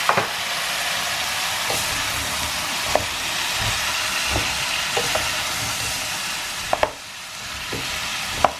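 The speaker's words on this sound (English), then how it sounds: "Now we're putting 2 tomatoes." Tomatoes sizzle in a frying pan of vegan Indian aloo gobi, a loud steady hiss with occasional pops and clinks of stirring, close and continuous.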